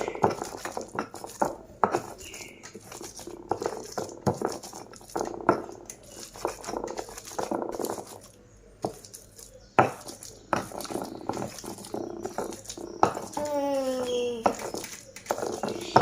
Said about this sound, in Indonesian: Tinggal haluskan aja.